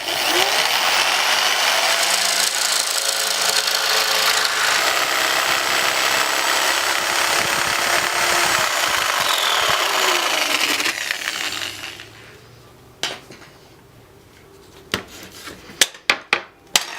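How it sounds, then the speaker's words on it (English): A jigsaw cuts laminate flooring in a loud continuous buzzing run for about eleven seconds, then stops, leaving a few sharp knocks and clatters of handling at the end. "And then my jigsaw on here, making sure I don't hit the blade on anything underneath."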